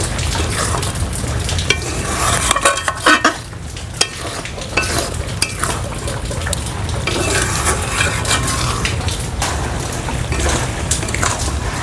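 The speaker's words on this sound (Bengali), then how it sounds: "এইবারে সব কিছু একসাথে খুব ভালো করে মিশিয়ে নেব।" Chicken spare parts masala is stirred and fried in a pan, with steady sizzling under repeated scraping strokes of a spoon against the metal and occasional clinks, loud and close throughout.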